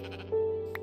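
A Minecraft sheep gives a single short, nasal bleat, close and clear over a faint background hum.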